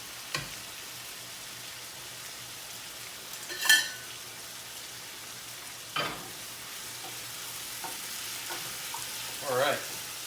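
Shrimp fry in a pan as an ingredient is stirred in, a soft continuous sizzle beneath a few distinct scrapes and clinks of the utensil against the pan.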